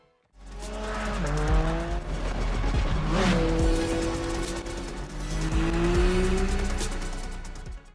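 A Porsche 718 Cayman GT4 RS with a 4-liter flat-six driven hard, engine howling up through gears with rising pitch sweeps and shifts, tires squealing in a skid midway, loud and sustained.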